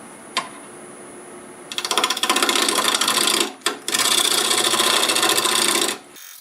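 A glued bowl blank spinning on a wood lathe at 925 RPM is rounded with a tool, giving a loud, steady scraping rasp in two long bursts separated by a brief pause, with no talking.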